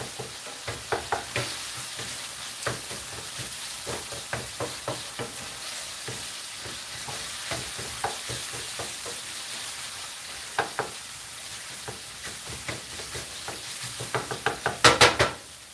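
Taco filling sizzles in a pan while a utensil stirs it, a steady frying hiss broken by frequent scraping clicks and knocks against the pan, ending in a louder cluster of clatters.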